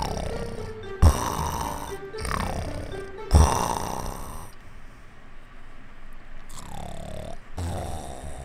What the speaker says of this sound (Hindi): सेठ जी गहरी नींद में खर्राटे लेकर सो रहे थे